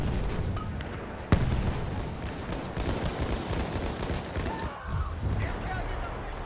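Machine gun fire rattles through a Battlefield 1 match, sustained bursts and distant booms forming a dense battle din, with one sharp close shot standing out and shouted voices mixed in.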